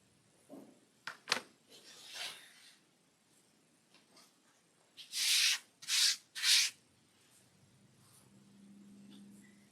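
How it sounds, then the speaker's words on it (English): Rotary cutter or scissors trimming a corner off a fabric quilt block, heard as a few close scraping and slicing strokes, then three louder rasping cuts in quick succession, followed by a low faint hum. "Let's just trim this corner off while I'm here."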